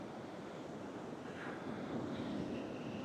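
Mediterranean sea waves wash onto a beach in a steady, broad rush of surf, with wind buffeting the microphone throughout and a swell building louder toward the end.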